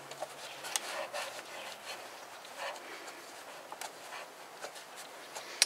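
Quiet rubbing and scraping as old grease and dirt are wiped off the lift gate strut mounting posts of a 2004 Volvo XC90, with soft irregular scuffs and a few sharper clicks, close by, without talking.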